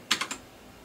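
Three quick key clicks from an RK61 mechanical keyboard, crisp and close, evenly spaced in a short burst, then quiet.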